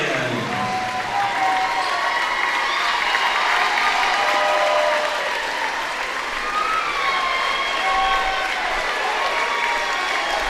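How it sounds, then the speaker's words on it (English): Home-crowd fans roar and cheer continuously at a high school basketball regional championship as students storm the court, a loud, dense wall of cheering and whistling that never lets up. "their crowd is about to storm the court"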